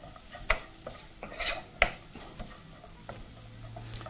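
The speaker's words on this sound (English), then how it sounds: "you're going to proceed to fry those together, mixing through, making sure to coat everything with the spices" Spices stirred and fried together in a pot for rajma masala, with a soft continuous sizzle broken by a few sharp scrapes and clinks of the spoon against the pot.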